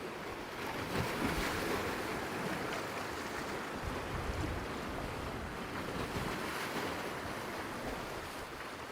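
Strong ocean waves crash steadily against the rocky, mountainous coast of Hydra island in Greece, a loud continuous roar of surf mixed with gusting wind noise on the microphone, with no talking.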